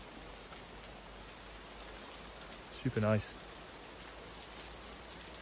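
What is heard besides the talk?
light rain falling on a tent in a British forest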